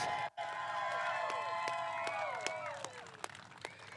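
A motorsport crowd at a Portland race gives scattered applause and some cheering for a first-time winner, with racing engines whining and fading nearby.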